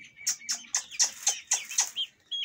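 A chicken clucks in a quick, regular series of sharp calls, about eight in a row, close by and fairly clear.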